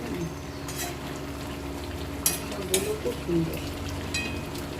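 Pumpkin greens with turmeric stirred in a frying pan, a steady low sizzle with several scraping stirs and soft utensil clinks, a voice talking quietly over it.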